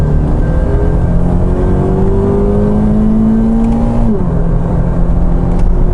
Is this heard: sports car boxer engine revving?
yes